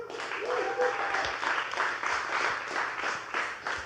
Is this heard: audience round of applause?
yes